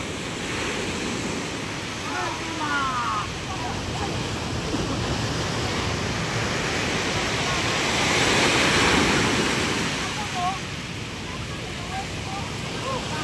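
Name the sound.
large ocean waves crashing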